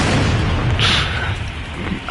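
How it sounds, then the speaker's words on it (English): A tank or vehicle detonates in War Thunder, a heavy booming explosion with a rolling rumble and a brief bright burst partway through, loud and sustained without speech. "Oh my god, you detonated!"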